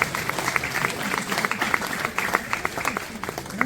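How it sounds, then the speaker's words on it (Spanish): A church audience applauds with dense, steady clapping throughout, fairly close, with a voice faintly heard beneath it. "me van a dar un aplauso"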